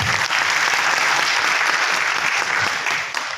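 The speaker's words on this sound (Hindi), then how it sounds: "उनके लिए एक बार जोरदार ताली" A seminar audience in Aurangabad, Maharashtra, bursts into loud, dense applause that holds steady, then begins to thin out near the end.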